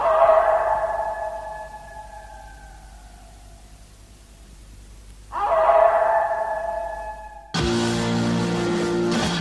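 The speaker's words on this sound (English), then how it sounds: "the howling wolf" A wolf-howl sound effect sounds as two long, wavering, falling howls separated by a quiet gap, followed by a different, denser sound that starts abruptly.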